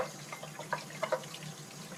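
Water running from a kitchen tap while dishes are washed up, a soft continuous splashing with occasional brighter clinks and drips, close and moderately quiet.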